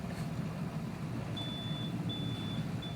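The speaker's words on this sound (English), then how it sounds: "Go figure, my Navionics has a collision sound alarm." A phone's Navionics navigation app sounds its collision alarm aboard a sailing boat: a thin electronic tone beeps three times in long, evenly spaced pulses over a steady low rumble of engine noise.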